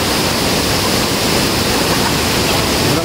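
Mantayupan Falls in Cebu, a waterfall roaring as a dense, constant wash of falling water, loud and close, with no breaks.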